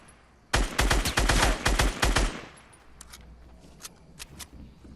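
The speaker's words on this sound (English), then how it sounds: "so I start shooting there" Rapid bursts of gunfire from the Fortnite Battle Royale video game, a loud run of shots for about two seconds, then quieter scattered shots and game sounds.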